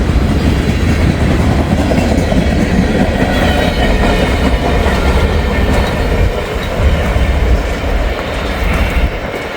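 A short train of locomotives rolls past on the rails, loud and close throughout, with steady rumble and clickety-clack of wheels over joints and no talk.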